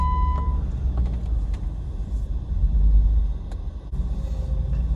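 A Jeep JK with a swapped Hemi engine drives along, giving a deep, loud engine rumble with a swell in the middle, a few light knocks and clunks, and no voices.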